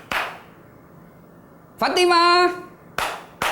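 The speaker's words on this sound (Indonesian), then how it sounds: "Tepuk pramuka" A few sharp, separate hand claps in the Indonesian scout-style clapping pattern, spaced apart and close by, with a brief spoken voice between them.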